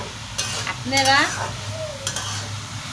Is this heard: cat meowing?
no